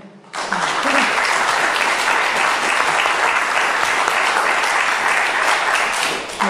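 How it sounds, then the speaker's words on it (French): Dense, sustained audience applause at a talk welcoming a speaker on climate and health, rising sharply after a brief quiet start and holding loud and steady to the end. "Donc merci de l'applaudir."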